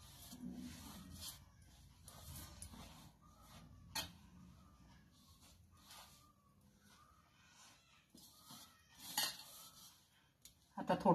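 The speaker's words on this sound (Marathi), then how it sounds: "प्रथम काय करायचं, हे मिश्रण चांगलं हलवून घ्यायचं." A spoon scrapes and clinks against a metal bowl while a spinach puri dough mixture is stirred, producing quiet, irregular taps and scraping strokes with brief pauses and a louder clatter at the end.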